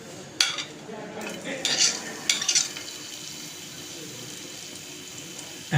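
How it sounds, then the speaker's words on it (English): Chopped garlic frying in a teaspoon of hot oil, a soft steady sizzle broken by a few sharp scraping and stirring clatters of a utensil against the pan early on. "Into the oil we're going to add some chopped garlic."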